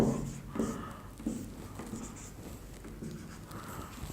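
Code written out by hand with a pen or marker for a binary search loop, soft scratchy strokes in short bursts close by, with no talking over them.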